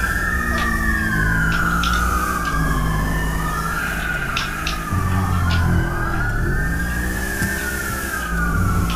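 A police car siren in the video game GTA V wails continuously and loudly, its pitch sweeping up and down in a long repeating cycle over a heavy engine and traffic rumble, with no talking.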